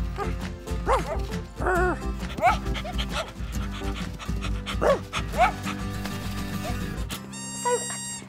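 A dog barks and yips playfully in quick bursts, loud and close, with whimpering tones between barks and a short musical sting at the end.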